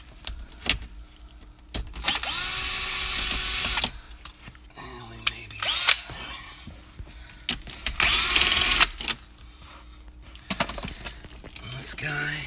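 A power drill zaps out 7 mm screws from the dash trim of a 2013–2017 Cadillac SRX, with two close whirring bursts separated by clicks, handling noises and rattles of loosened parts.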